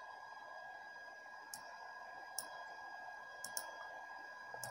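Faint, sharp computer mouse clicks, about five scattered single and double taps, over a steady quiet hum while an LED is rotated in circuit design software.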